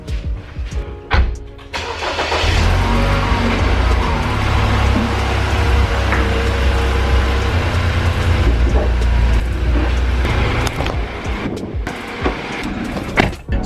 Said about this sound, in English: So I'm just gonna let the car run for a little bit while I clean up